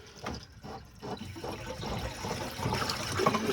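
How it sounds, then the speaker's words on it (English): Water drains from a household pressure tank after a fitting is removed, a steady low gurgling rush and trickle that builds slightly in strength, close by and without speech. "this thing's gonna have a lot of water in it"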